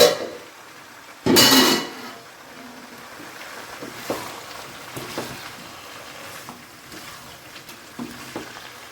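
A pan lid lifts with a brief loud clatter, then raw mango pickle is stirred in the pan with soft, irregular scrapes and taps over a faint sizzle.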